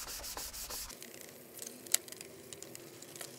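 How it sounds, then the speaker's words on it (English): Fine Scotch-Brite pad rubbed back and forth over a plastic kick plate during a BMW Alpina B7 interior refurbishment, a steady close scrubbing hiss that eases after the first second, with a few light taps, no talking. "So you're gonna use 1000 sandpaper to flatten out those scratches, and then some fine Scotch-Brite."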